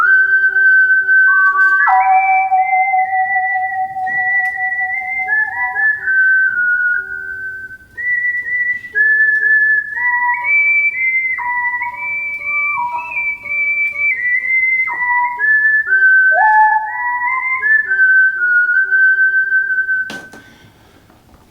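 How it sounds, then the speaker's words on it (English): A Roland GR55 guitar synthesiser plays a whistle patch, a clear, pure whistling melody of sliding and held notes running steadily for about twenty seconds, loud and close with no talk. "I'm playing the strange whistle effect, and it's good"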